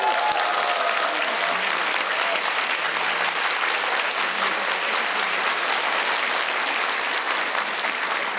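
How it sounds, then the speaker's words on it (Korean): A large audience at a Korean political party forum on childcare policy gives sustained, dense applause, loud and even for the full stretch with no speech. "다시 한번 뜨거운 박수 한번 부탁드리겠습니다"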